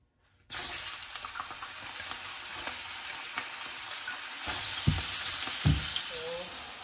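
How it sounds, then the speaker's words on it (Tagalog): Mushrooms stir-frying in a pan, a steady broadband sizzle with scraping stirs and a couple of sharper clanks of the utensil, continuous and fairly close, no voices. "i-stir fry muna natin itong"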